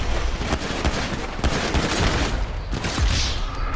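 Dense bursts of rapid gunfire crackle through a GTA 5 shootout, shots firing in quick clustered volleys and overlapping rattles, loud and close throughout with no talking.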